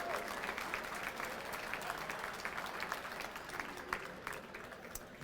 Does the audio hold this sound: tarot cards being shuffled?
no